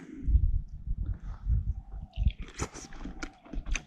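A pet chewing pineapple at close range, with moist crunching bites and squishy chews in an irregular rhythm, growing sharper and crisper toward the end, with no talking over it.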